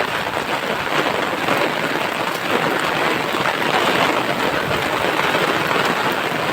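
Heavy rain pours down steadily and loudly in the Konkan countryside, a dense continuous wash with gusty rushing wind mixed in throughout.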